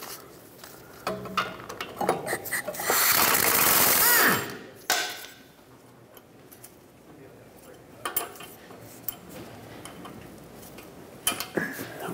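Drive shaft bolts being unthreaded on a 2013-2019 Ford Escape: scattered metallic clicks and ticks from hand tools, broken by a loud, sustained rasping burst partway through, then sparse clinks.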